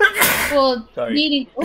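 A loud, close sneeze bursts out right at the start, followed by voices talking.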